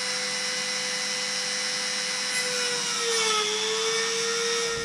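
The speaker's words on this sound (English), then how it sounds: "and now I'm gonna get drilling" A steady high-pitched Dremel rotary tool whine runs without pause, its pitch dipping slightly midway as it bites into a Nissan 300ZX Z32 front door panel, close and loud.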